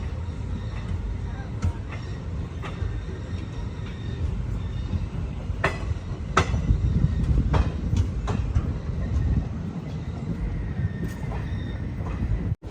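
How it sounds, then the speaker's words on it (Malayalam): The Okha to Bhavnagar Express rolls along in Gujarat, heard from inside a sleeper-class coach: a steady loud rumble with scattered wheel clacks and knocks over nearly thirteen seconds. "ഓക്കയിൽ നിന്നും 537 കിലോമീറ്റർ യാത്ര ചെയ്ത് ട്രെയിൻ ഇതാ ഭാവ്നഗർ ടെർമിനസ് റെയിൽവേ സ്റ്റേഷനിലേക്ക് എത്തിയിരിക്കുകയാണ്."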